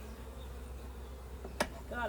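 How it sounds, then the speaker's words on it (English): Honeybees on a hive frame make a faint, low, continuous hum, with a brief sharp sound and a short voice-like noise toward the end. "There's a few bees on there."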